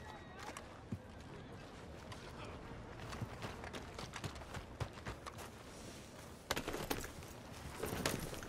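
Horse hooves clip-clop at a walking pace in Red Dead Redemption 2, a thin, skinny horse at a stable, giving a string of light, uneven knocks at moderate distance, with a few sharper thuds near the end.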